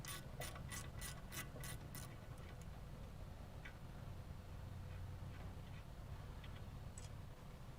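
Ratchet clicking rapidly as car brake caliper bolts are loosened, a quick run of crisp, close ticks followed by a few scattered clicks over a low background hum.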